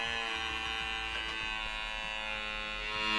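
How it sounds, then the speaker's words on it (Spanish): A homemade door alarm built from a small motor gives off a continuous, steady electric buzz with a rich harmonic drone, close and even for the whole stretch with no talking. "Ahí dejamos preparado el motor y al abrir se estira la cuerda y suena"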